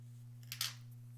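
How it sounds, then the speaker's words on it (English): A single quick snip of scissors cutting embroidery thread, close and quiet, over a steady low electrical hum. "All right, we'll snip that."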